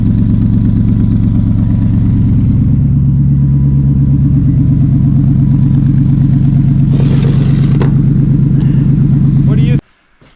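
A Cobra Daytona replica's engine idles loudly and steadily through a newly fitted exhaust, a deep throbbing burble that holds throughout, brief clatter near the end before it suddenly cuts off.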